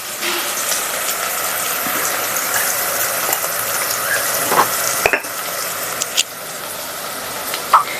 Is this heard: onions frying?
yes